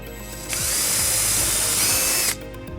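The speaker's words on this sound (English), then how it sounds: "So what we're first gonna do is drill the back hole." A power drill whines steadily for about two seconds, close and loud, boring a hole while a trailer wiring harness is fitted to a 2009 Volvo XC90.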